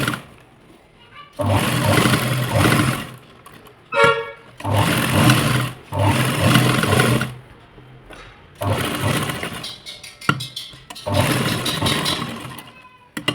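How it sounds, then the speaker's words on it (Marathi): A sewing machine stitches the seams of fabric in a series of fast whirring bursts, each lasting a couple of seconds, separated by short pauses, heard up close. "तर अशा प्रकारे सर्व बाजूने शिलाई मारून घ्यायची"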